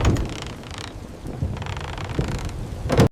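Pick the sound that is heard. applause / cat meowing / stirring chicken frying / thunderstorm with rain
thunderstorm with rain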